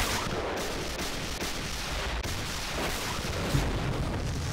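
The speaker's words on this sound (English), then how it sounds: "There are explosions going off nearby." A dense wall of anime tank battle noise, continuous rumbling explosions and gunfire with no pauses, loud and chaotic throughout.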